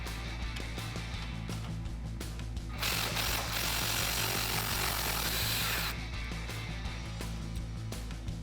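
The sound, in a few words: tools removing Jeep Wrangler sway bar end link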